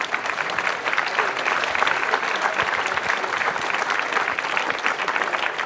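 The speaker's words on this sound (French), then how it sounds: "Je pense qu'on peut les applaudir." An audience at a winter conference on AI in home hospital care applauds its panel speakers, steady and dense clapping filling the whole stretch at a constant loud level.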